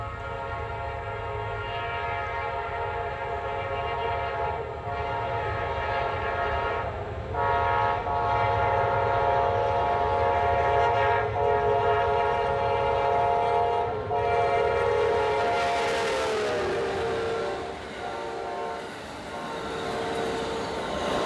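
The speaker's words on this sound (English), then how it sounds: "I always get a joy seeing this train fly by. Amtrak 19, the southbound Crescent." The Amtrak 19 southbound Crescent passenger train rolls past with a loud, sustained chord horn over a steady rail rumble, the horn sounding in long blasts before its pitch drops as the train goes by.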